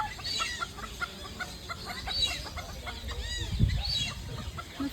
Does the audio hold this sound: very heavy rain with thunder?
no